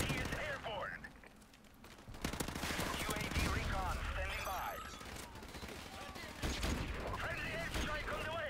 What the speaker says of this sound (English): Is that your freaking airstrike?